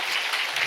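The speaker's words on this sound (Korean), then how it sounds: "성삼위 우리 하나님께 영광의 박수 보냅시다." A brief burst of applause from a church congregation at a New Year's Eve service, steady and dense from start to finish with no voices.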